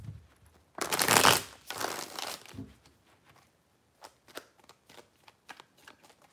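A deck of cards is riffle-shuffled up close in two loud bursts of rapid flutter, followed by quieter scattered taps and clicks as the cards are squared and handled.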